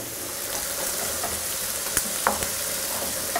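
Cabbage cooks in a pan with a loud, steady sizzle and bubbling, while a wooden spoon scrapes and taps through it a few times.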